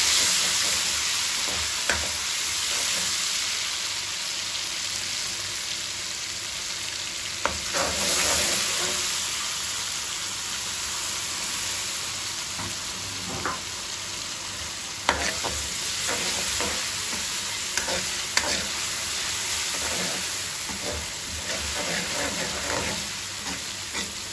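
Ginger, garlic and green chilli paste frying with light-browned onions in a pan for mutton palak, a steady close sizzle broken by repeated spatula scrapes and clicks, no speech.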